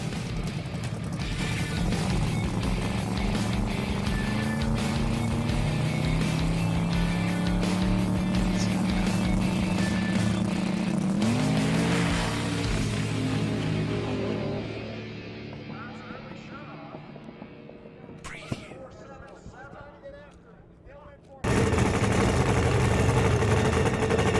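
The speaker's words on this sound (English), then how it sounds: "for the Nitro Funny Cars, we had a single car pass in the first round for Keith Johnson" A Nitro Funny Car makes a single pass at a drag strip, its engine roaring loud and steady before fading away down the track. A burst of crowd or track noise follows near the end.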